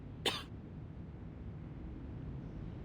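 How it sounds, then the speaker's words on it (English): A character in the video game Reverse:1999 gives a single short cough near the start, followed by a quiet, steady ambient hum. "And now I cough and splutter just like it does."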